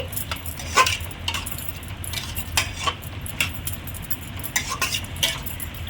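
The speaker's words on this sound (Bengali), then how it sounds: "নাড়াচাড়া করছি।" Coriander and mint leaves stirred into a chicken and paneer fry, quick scraping clinks of a utensil against the pan over a low frying hiss, close by and moderately loud.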